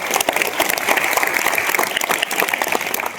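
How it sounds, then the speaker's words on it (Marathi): Applause at a high school guest speech gathering, a dense, steady round of clapping from an audience that carries loudly through the whole moment. "जोरदार यांच्यासाठी जरा टाळ्या"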